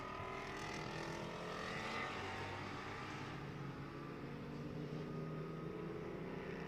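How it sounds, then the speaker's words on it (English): GT4 race cars circle Road America behind an Acura NSX safety car at reduced pace, a steady distant engine drone with a broad rumbling hum that swells slightly midway and then settles. "The Acura NSX, our official safety vehicle, bringing the field around here."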